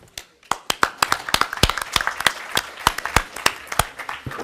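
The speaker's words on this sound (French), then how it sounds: "je crois qu'on peut applaudir l'Académie de l'agriculture" Audience members at a round table on forest plantations clap for the Académie de l'agriculture, sharp individual claps standing out in a loose, moderately loud round of applause.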